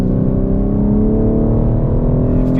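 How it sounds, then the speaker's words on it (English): A 2021 BMW M4 base model with a 6-speed manual, driven on a race track, its engine loud and close in a continuous rich drone that holds steady throughout. "we are out on track with the 2021 BMW M4 base 6-speed manual. It sounds phenomenal"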